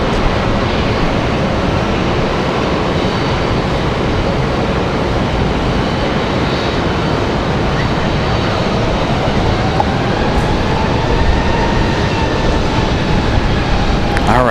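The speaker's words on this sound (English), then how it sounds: "there's the Republic Airways from Pittsburgh" Republic Airways jet arriving from Pittsburgh at Raleigh-Durham airport, a broad steady roar of engine noise held at a constant loudness, with a faint rising whine late on.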